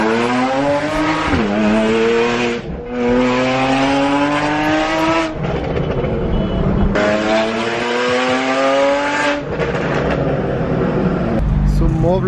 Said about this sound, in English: now I'm in the 911 with a listener. And we're going out for the drive.